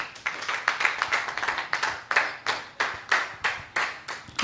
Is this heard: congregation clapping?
yes